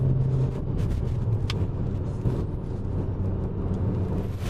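A 2013 Kia Sportage 1.6 GDI automatic SUV accelerating from a slow start, heard from inside the cabin as a steady, loud engine and road rumble with no speech.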